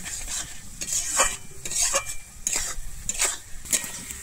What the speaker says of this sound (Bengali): আমি লবণটা দিয়ে এবারে কিন্তু আলুটাকে আবারও খুব ভালোভাবে কষিয়ে নেব